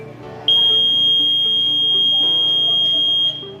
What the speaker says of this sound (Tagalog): Then the buzzer will automatically trigger,